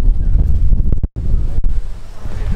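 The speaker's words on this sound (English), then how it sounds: "really windy" Heavy wind buffets the microphone outdoors at an arts and crafts show with a loud, low roaring rumble that drops out briefly before gusting back.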